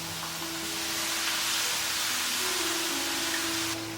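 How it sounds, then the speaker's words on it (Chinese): Minced garlic sizzles steadily in a generous pool of oil in a wok for Hakka preserved-mustard chili sauce, a close, even hiss with no talk. "先把蒜蓉放进来炸香。"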